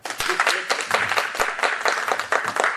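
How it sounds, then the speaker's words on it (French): A small audience at a diaspora community gathering in Paris claps briefly in a close, lively burst of individual hand claps. "On peut m'applaudir quand même, non?"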